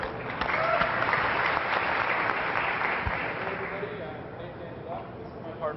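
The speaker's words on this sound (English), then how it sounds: "Round of applause, everyone." An audience applauds startup presenters at a pitch competition, a moderately loud round of clapping that gradually fades over several seconds, with some voices mixed in.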